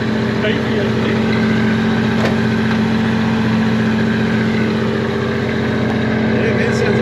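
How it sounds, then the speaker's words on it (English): A steady, throaty Ford XC Falcon panel van engine idles close by through an aftermarket exhaust, with a constant low rumble and no change in pace, while people talk over it. "Oh, cool exhaust, that's why it sounds alright."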